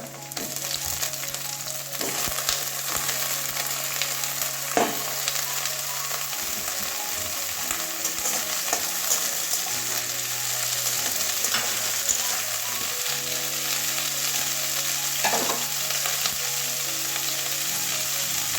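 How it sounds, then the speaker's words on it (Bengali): Bitter gourd pieces fry in a pan over onions already browned, giving a steady close sizzle and crackle throughout, with occasional utensil knocks and a faint low hum beneath. "এবারে ধুয়ে রাখা উচ্ছেগুলো দিয়ে দেবো ভেজে নেবো উচ্ছেটা"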